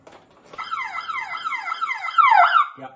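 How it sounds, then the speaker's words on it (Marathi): A homemade anti-theft alarm siren wails electronically in rapid rising and falling sweeps, loud and close, repeating for a couple of seconds before cutting off. "त्यावेळेस सायरन कंटिन्यू 1-15 सेकंद सायरन वाजतो।"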